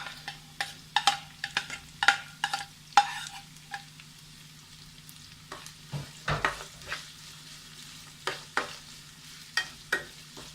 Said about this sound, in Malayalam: ഈ സവാളയൊക്കെ ലൈറ്റ് ബ്രൗൺ ആണ് വരെ വഴറ്റാം